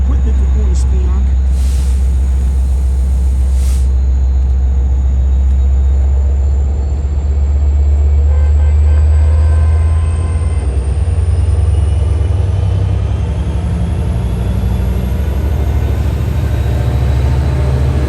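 Long Island Rail Road train 3050 passes close by near Oakdale Junction, a loud continuous rumble of wheels and engine drone filling the whole stretch, with a rising whine building steadily as it rolls through.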